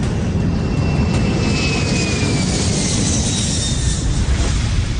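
An airplane coming in to land near a mountain airport, its steady engine roar and broad rushing noise continuous and fairly loud throughout, with a faint high whine sliding gradually.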